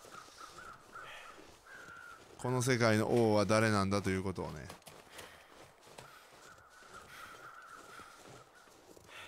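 Crows caw loudly in the snowy wilderness of the video game The Long Dark, a burst of harsh, repeated calls lasting about two seconds, while someone talks quietly before and after it.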